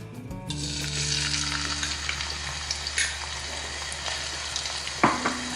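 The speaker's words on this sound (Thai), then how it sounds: "I'm start with the vegetable oil and the chili ริกที่เราตำไว้นะคะ" Pounded chili paste hits hot vegetable oil in a pan for a spicy stir-fried shark dish, bursting into a loud, steady sizzle with occasional stirring clanks close by.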